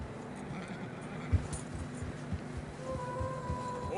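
Soft, steady clip-clop of horses plodding at a walking pace through fresh snow in Red Dead Redemption 2, faint and somewhat distant over a low ambient hum, with a faint tone near the end.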